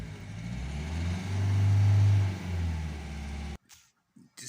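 A Volvo S40 with a 1.6 HDi diesel engine and a low fuel pressure fault that causes stalling, on a test drive: a mid-pitched engine drone swells as it revs, eases off, then cuts abruptly near the end.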